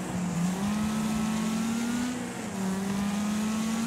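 In the racing video game Wreckfest, a car engine holds a steady revving drone at moderate volume, pitch climbing slightly and dipping briefly before rising again, with no talk over it.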